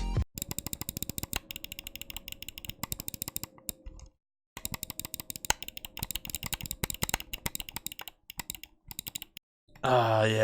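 A SteelSeries Rival 600 gaming mouse gives rapid, crisp clicks in close bursts, with a brief pause in the middle, then a short voice at the end.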